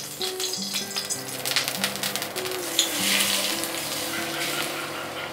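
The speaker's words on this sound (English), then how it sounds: "I just very quickly heat up some oil" Oil heating and sizzling in a pan for Cantonese-style steamed fish, a steady close hiss of frying with a faint background hum, no talking.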